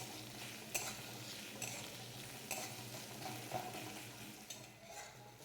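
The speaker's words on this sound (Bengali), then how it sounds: "এবারে পেঁয়াজগুলোকে লাল লাল করে কিছুক্ষণ ভেজে নেব।" Finely chopped onions frying with ginger and garlic for an egg tarka, a soft, steady sizzle in hot oil broken by a few light scraping stirs of a spatula, no talking.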